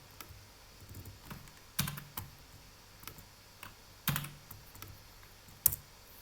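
A command typed on a computer keyboard, with sparse, scattered key clicks and a few sharper key strikes, close and fairly quiet, with no talk over it.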